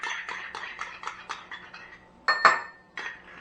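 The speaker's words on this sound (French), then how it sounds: "On met ça dans un petit plat pour pouvoir mélanger." Ingredients are tipped and spooned into a small dish for mixing, with a rapid series of close clinks and taps of a utensil against the dish, and one louder knock near the end.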